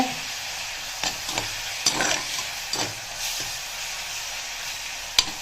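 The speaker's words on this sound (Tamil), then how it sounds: "இது இப்போ கொஞ்ச நாள் வதங்கட்டும், பார்க்கலாம்." Thuthuvalai greens sautéing in a pan: a soft constant sizzle with several sharp scrapes and clatters of stirring spread through it, close and moderately loud, without talk.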